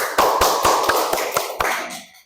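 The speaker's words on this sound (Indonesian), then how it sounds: "Ya, tepuk tangan." A small group claps in a classroom during a student group presentation, several loud claps spread over about two seconds, near and fairly even, then fading out.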